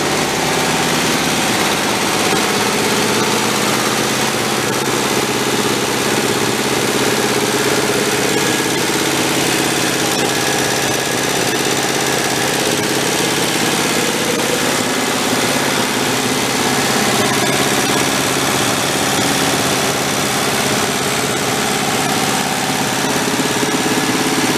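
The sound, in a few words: Volkswagen tractor engine idling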